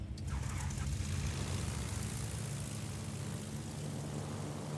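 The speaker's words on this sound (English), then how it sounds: "Oh, the fighter plane actually locked on." A fighter plane engine in the naval battle game World of Warships drones as a steady broadband roar with a low propeller hum, continuous and moderately loud with no speech.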